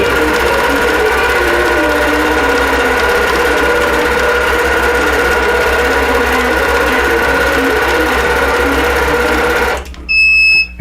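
Longarm quilting machine stitching a quilt design, a steady close mechanical hum and rapid needle chatter running continuously, ending with a short electronic beeping alert.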